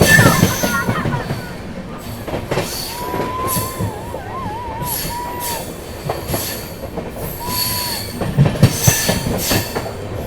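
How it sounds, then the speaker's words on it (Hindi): Unchahar Express 14218 pulls out of Dalmau Junction, wheels clattering and squealing in a steady rolling din with loud bursts near the start and end, thin screeches and whistle-like tones drifting over it, no talk. "चलिए निकल गई ट्रेन अपनी डलमऊ जंक्शन से।"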